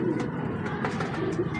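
Pigeon cooing softly and steadily, fairly close, with a low murmuring rumble over faint background noise and scattered light clicks.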